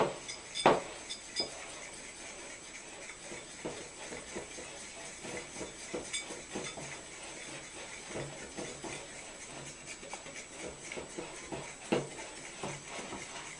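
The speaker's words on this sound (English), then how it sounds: "Now a lot of you may notice I'm using a whisk for my flour" A whisk clinks steadily against a bowl while flour and salt are mixed together, the light metallic ticks and scrapes repeating through a soft background hiss, with no talking.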